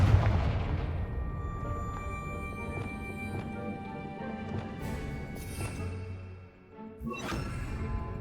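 Confringo blasting-spell explosions in the video game Hogwarts Legacy, a series of booming impacts with sharp cracks and ringing debris, loud and close, a larger burst near the end, no talking.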